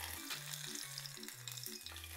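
Karaage, Japanese fried chicken, bubbles in hot oil with a steady, close hiss and crackle, alongside a faint repeating low tonal hum.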